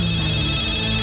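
A telephone rings, a steady electronic ring tone held throughout the brief moment over a dense background hum.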